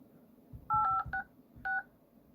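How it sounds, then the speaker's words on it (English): Dial pad tones on a Xiaomi Redmi Note 8T phone: several short, quiet beeps tapped out in quick succession, with a brief pause before the last tone. "you can put dial pad tone"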